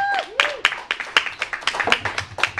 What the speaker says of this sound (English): Come on, clap for Remus.